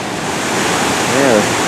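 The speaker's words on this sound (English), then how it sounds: "We're at the waterfall. And it goes on down here, and there's some more waterfall." Steady broadband rush of a waterfall in Dominica, continuous and fairly loud, with a faint brief tonal sound near the end.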